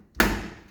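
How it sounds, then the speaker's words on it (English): An LG dishwasher door swings shut with a single solid thud, close and sharp, followed by a short fading resonance. "close the door"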